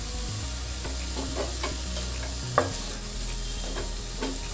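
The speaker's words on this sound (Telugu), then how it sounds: "ఒక ప్లేట్లో తీసి పక్కన పెట్టుకొని తాలింపు వేసుకుందామండి" A tempering for a drumstick leaf fry sizzles steadily in a pan, a loud constant frying hiss with occasional spatula scrapes and knocks, close, with no voices.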